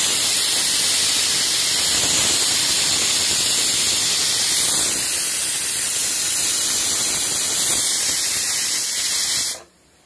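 A pressure cooker on a gas stove releases a long, loud, continuous hissing steam whistle that holds steady for several seconds before cutting off abruptly.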